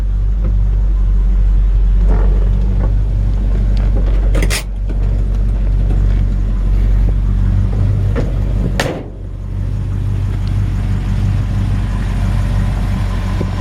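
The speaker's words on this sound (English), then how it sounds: "Steers nice and easy. Really good driving truck." A 1965 Ford F-100 pickup truck rumbles along with a steady, low engine drone and road noise, broken by two brief sharp clunks.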